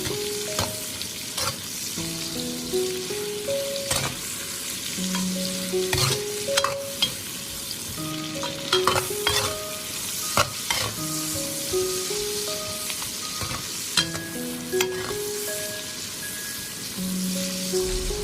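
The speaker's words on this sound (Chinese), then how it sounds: "再快速的翻炒， 将腊肉炒香，炒出油脂" Cured pork and winter bamboo shoots stir-fry fast in a wok, giving a constant oily sizzle under frequent spatula scrapes and clanks against the metal, with no voices.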